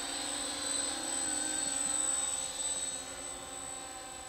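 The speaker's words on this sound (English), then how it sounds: "I'm going to go ahead and go into slow forward flight." A scale flying model of the XC-142 VTOL aircraft in slow forward flight gives a steady, fairly loud whirring engine and propeller drone with slight pitch wavering, heard nearby and continuous throughout.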